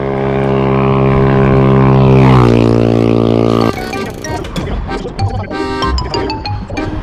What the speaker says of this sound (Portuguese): Tá vindo a lambreta aí.